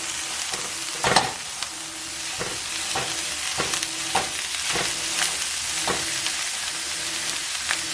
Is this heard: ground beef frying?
yes